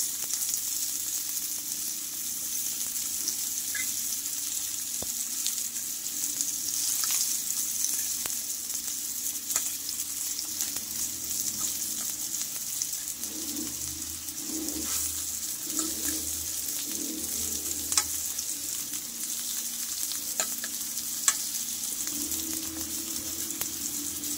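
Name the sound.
bitter gourd frying in ghee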